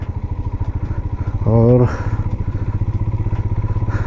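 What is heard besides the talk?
motorcycle riding uphill on a mountain road in Ladakh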